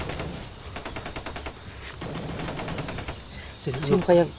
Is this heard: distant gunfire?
yes